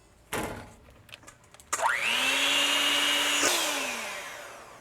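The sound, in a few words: beating egg whites into stiff peaks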